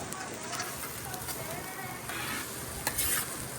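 Rice fries in oil in a pan over a low fire while being stirred, giving a steady close sizzle with scraping and stirring strokes throughout, during a catering cook for fifty guests.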